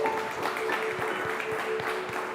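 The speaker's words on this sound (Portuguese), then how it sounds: "Você pode aplaudir ao Senhor mais uma vez." A church congregation applauds during a Thursday evening worship service, a steady wash of many hands clapping together at moderate volume, with no voices over it.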